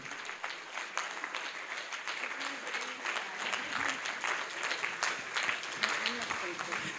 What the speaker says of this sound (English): Please join me in applauding this wonderful lady.